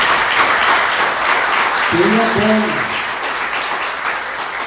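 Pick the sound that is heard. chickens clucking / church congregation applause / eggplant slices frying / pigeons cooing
church congregation applause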